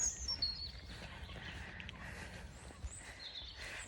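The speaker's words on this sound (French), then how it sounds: "J'entends un pic vert." A green woodpecker calls in the countryside near Lake Neuchâtel in Switzerland, giving a few faint, distant notes over a soft outdoor background.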